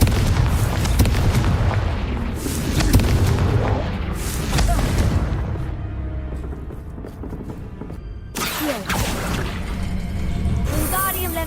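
A Confringo fire spell bursts in Hogwarts Legacy with booming, blast-like impacts under a dense bed of game music and effects, with a few sharper hits toward the end.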